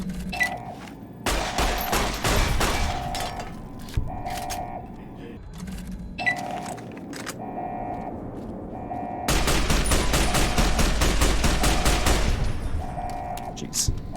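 Rapid bursts of automatic gunfire from a gun in a video game battle against a machine with missile silos, long rattling volleys stopping and starting over a steady hum, loud and close, the heaviest burst near the end.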